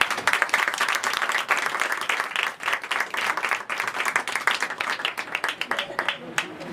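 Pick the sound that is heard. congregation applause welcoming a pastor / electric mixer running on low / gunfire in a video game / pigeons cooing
congregation applause welcoming a pastor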